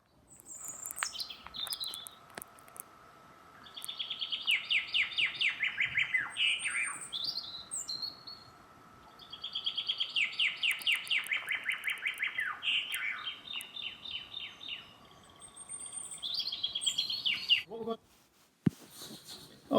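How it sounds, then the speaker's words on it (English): A robin sings in phrased bursts of bright chirps and trills, moderately close, with short pauses between phrases over a faint steady background hum. "hopefully you could hear some birds singing. It was actually a robin"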